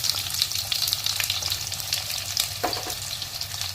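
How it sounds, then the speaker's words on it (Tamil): Large onions with garlic and fenugreek frying in hot oil in a home kitchen, a steady close hiss and sizzle with light stirring scrapes throughout, no talking. "சின்ன வெங்காயம் நம்ம வீட்டில் வாங்கலை அதனால நம்ம பெரிய வெங்காயம் தான் கொஞ்சம் போட்டுக்கலாம்"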